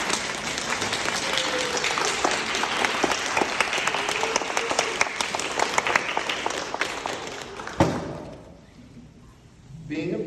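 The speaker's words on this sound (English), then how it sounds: "Students, please look at your parents and give them a round of applause" An audience at a school ceremony bursts into steady, full applause for the parents, followed by a single thump and a sudden drop to near quiet.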